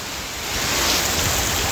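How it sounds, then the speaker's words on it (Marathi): Heavy rain pours down in Singapore near stacks of shipping containers, a steady, loud broadband hiss that swells slightly midway and holds without a break. "आणि आता खूप जोरात पाऊस आला आहे"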